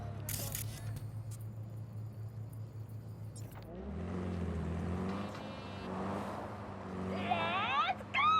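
A car engine in the Cyberpunk 2077 game, quieter at first and then revving and accelerating harder, with a rising whine near the end, all under ongoing game sounds during a chase.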